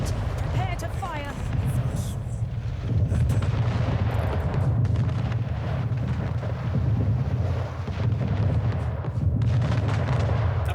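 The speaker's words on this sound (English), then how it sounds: "Fleet, prepare to fire." Rumbling naval cannon fire from a fleet of ships in Anno 1800, a steady low booming barrage running throughout, loud and continuous with a brief tonal whine early on.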